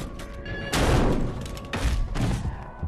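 Gunfire in an action film as a police officer's partner shoots a man: two loud, booming shots roughly a second apart, each a broad blast that rings out over a low background rumble.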